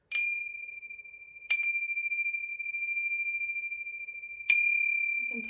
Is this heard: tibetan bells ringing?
yes